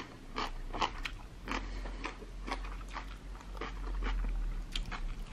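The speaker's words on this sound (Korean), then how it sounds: "이번에는 호박 물김치 한번 먹어볼게요." Close, crunchy bites and chewing of pumpkin water kimchi, eaten with gondre rice, repeat in an uneven rhythm over a low steady hum, with no talking.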